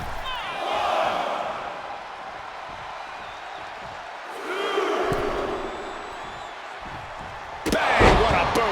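Big boot kick in a WWE SmackDown wrestling match: a sharp slam near the end follows swells of crowd roar and cheering, with an arena crowd noisy throughout.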